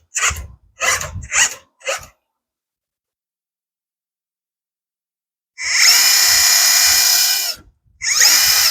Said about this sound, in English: that motor actually kind of sounds like a little diesel